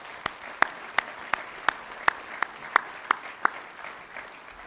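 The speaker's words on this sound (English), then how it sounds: "let's give a round of applause for the board that was on during the pandemic" Steady, evenly spaced claps ring out at a volunteer awards ceremony, the 2022 BILD Alberta Volunteer Awards, roughly three per second with a sparse, rhythmic feel rather than a dense crowd roar, moderately close and alone without talk.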